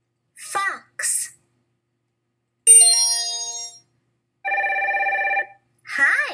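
A phone ring tone sounds while a friend is dialed: two steady, ringing tonal bursts of about a second each, close and clear, with brief voices before and after.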